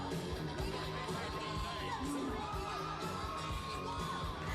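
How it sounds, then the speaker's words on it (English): A crowd of women screams and cheers for a Chewbacca performer, shrill whoops and yells rising over loud pulsing music, excited and close throughout. "Listen to the ladies screaming for Chewbacca."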